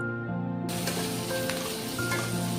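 Chopped onions, bay leaves and five-spice sizzling in hot oil for an Assamese jackfruit curry, a sudden loud hiss bursting in and then holding as a dense, continuous sizzle close up.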